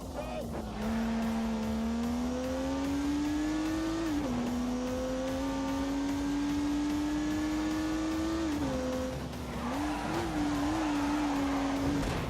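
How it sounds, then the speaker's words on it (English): A turbocharged 3-litre straight-six car producing 365 horsepower accelerates hard on a race track, its engine droning loudly and steadily rising in pitch, with a brief dip at a gear change before pulling again. "unleashed 365 rampaging horsepowers from the turbocharged 3-litre straight six"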